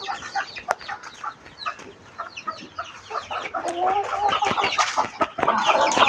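Young rooster kept with chickens and chicks at a home yard gives a rough, breaking crow near the end, with clucking from nearby hens throughout, close and fairly loud.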